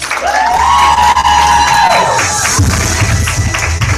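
Crowd at a TNT unit meeting cheering and whooping loudly, a sustained shout rising over steady applause that swells again toward the end.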